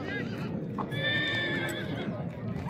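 A horse whinnies close by at a busy livestock market, its long shrill neigh rising over constant crowd murmur and scattered voices.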